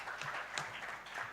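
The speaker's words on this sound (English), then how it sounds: "let's give that a round of applause" An audience at an annual dialogue event in Uganda breaks into a round of applause, a dense, steady patter of many hands clapping at moderate volume throughout.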